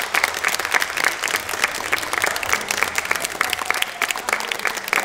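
An audience claps steadily at a live Azerbaijani music show, dense and close applause holding at an even level throughout with no voices over it.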